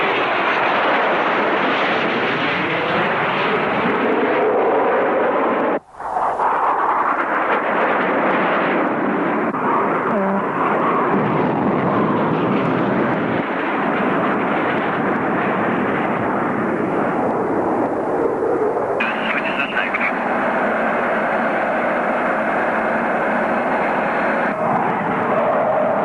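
An A-6 Intruder jet attack aircraft roars loudly and continuously as it fires and pulls up, with a sharp cutoff and burst early on, then a sustained engine rumble that shifts tone near the end.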